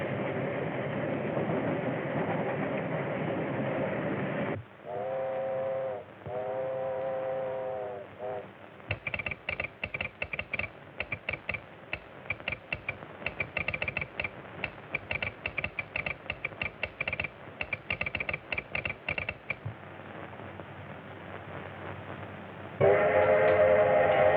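A 1930s steam train runs along the rails, a continuous rumbling clatter with a rapid rhythmic chugging in the middle section, and brief whistle-like tones near the start and end.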